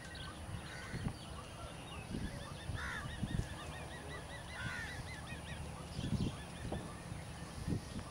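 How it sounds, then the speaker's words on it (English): Distant geese honk repeatedly from a flock of migratory birds on coastal flats at Bagan Sungai Buloh, Selangor, Malaysia, the calls overlapping in an open outdoor setting with low wind rumble. "There you have all the migratory birds breeding here."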